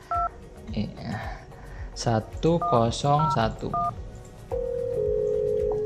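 A MicroSIP softphone dialing an extension on a FreePBX VoIP server: a few short DTMF keypad tones, then a steady ringback tone, with someone speaking over the start.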